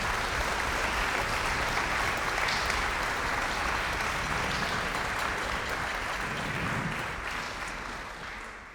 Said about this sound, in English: could we please give them a wonderful round of applause?